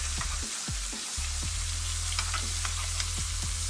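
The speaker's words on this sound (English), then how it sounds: "we're going to add some butter here. We're going to get that melting. Then we're going to baste" Butter sizzles and fries steadily in a pan while a rack of lamb is basted, with a continuous crackling hiss broken by scattered spoon scrapes and soft clinks, and no talking.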